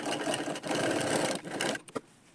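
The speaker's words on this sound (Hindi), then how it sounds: "इस तरह से यहाँ पे हम इसको सिलेंगे" A sewing machine stitches a lined blouse with a four-tuck belt, running in a steady, close, busy whir for about two seconds before a few short stops and final clicks.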